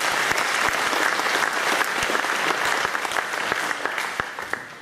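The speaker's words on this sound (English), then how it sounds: "Give them a loud applause, please." An audience at a Vedanta Centre gathering in Brisbane applauds, dense sustained clapping filling the room and tapering slightly toward the end.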